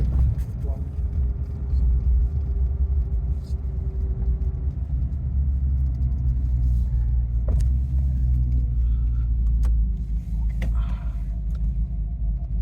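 A 1935 Chevrolet Standard two-door sedan with a ZZ430 430-horsepower engine and 700R4 transmission rumbles steadily nearby as it pulls away from a dead stop and gathers speed, with voices talking over the low road noise.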